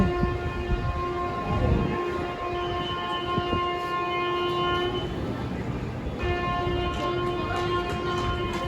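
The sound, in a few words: train arriving at station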